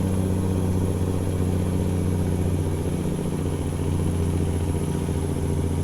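Kenworth W900 dump truck engine in American Truck Simulator, a steady, loud, low rumbling drone with a mechanical clatter throughout, close and unbroken with no talk.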